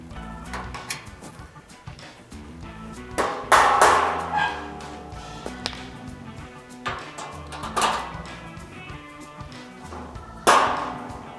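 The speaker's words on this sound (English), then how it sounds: "we'll give it a tap with the mallet" Mallet tapping metal bench supports into place on a heavy-duty workbench, a few sharp separated knocks with ringing overtones between quieter handling noises, close by.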